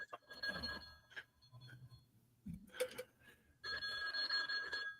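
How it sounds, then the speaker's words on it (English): A telephone rings indoors in repeated bursts of bright, trilling bell tone, the last burst long and steady, with quieter thumps and movement between rings. "Phone's ringing."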